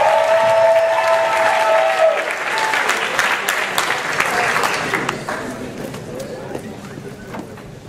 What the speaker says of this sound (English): So please give a warm round of applause to Kaylee Sanders.